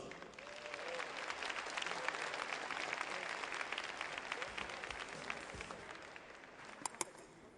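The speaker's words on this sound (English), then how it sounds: "please give a big round of applause for our African drummers" Steady, dense applause from a large crowd at the COP17 conference opening ceremony, honouring a group of African drummers, sustaining evenly throughout without letting up.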